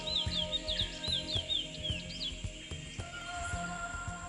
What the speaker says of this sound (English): The lesser seed finch is a great singer.